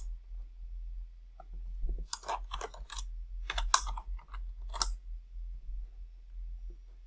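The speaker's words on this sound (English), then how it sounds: "I type exactly the name of the temp variable here and I give it a new value" Keys clatter on a computer keyboard in short bursts of quick, close clicks with pauses between them, over a steady low electrical hum in a quiet room.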